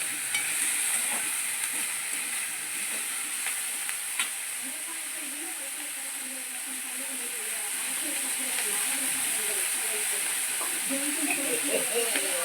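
Pirandai (veldt grape) and tamarind sauté in a pan, a continuous soft hiss and sizzle with scattered stirring clicks, steady throughout.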